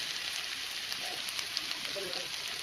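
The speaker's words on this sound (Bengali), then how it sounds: "হালকা নেড়ে চেড়ে একটু ভেজে নেবো, তারপরে মশলা দিয়ে দেবো" Spices sizzle and fry in a pan while being stirred during home cooking, a soft continuous hiss with faint scraping, quiet and steady throughout.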